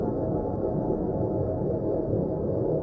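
An eerie recording presented as a space sound, Sweeps 04: a dense, steady low rumble with a hissy roar, constant and loud throughout with no clear events.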